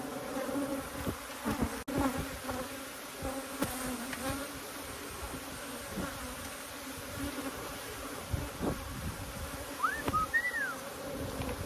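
Honeybees buzzing around an open hive during a strong nectar flow, a continuous close hum with individual bees whizzing past, soft clicks and handling sounds, no talking.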